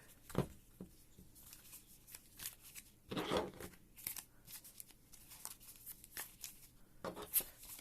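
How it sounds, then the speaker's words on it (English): Pokemon trading cards shuffled by hand, a soft, close riffling patter of card edges in short uneven bursts, quiet and without talk. "I'm going to just quickly shuffle the decks like this for tonight's stream."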